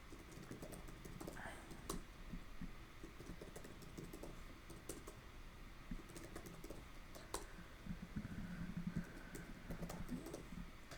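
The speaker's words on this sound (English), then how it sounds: "I'm typing by hand" Keys clatter on a computer keyboard as someone types code by hand for a Flutter app, with quiet, irregular bursts of keystrokes throughout and a faint voice underneath.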